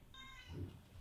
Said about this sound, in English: You might hear my cat in the background.